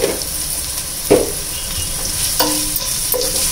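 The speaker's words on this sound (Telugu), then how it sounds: "కొంచెం లైట్గా ఉప్పు వేస్తాను, కొంచెం ఉల్లిపాయ ముక్కలు వేగడానికి." Onion pieces sizzle in hot oil with a light pinch of salt for street-style Indo-Chinese veg fried rice. A constant close hiss is broken by a few sharp stirring clinks from a spoon against the pan.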